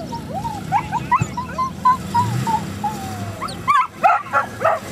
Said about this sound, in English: What a sweet dog.